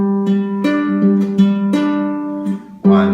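Clean guitar is fingerpicked in a thumb-index-middle pattern for a song's chord progression, with close, clear repeating plucks whose notes ring over one another and a fresh strum near the end.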